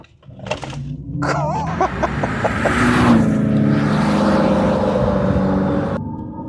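A 2025 Dodge Charger Daytona EV launches hard with its PowerShot boost engaged, producing a loud, rising electric whine and a thick synthetic roar that builds and holds near the listener before easing off.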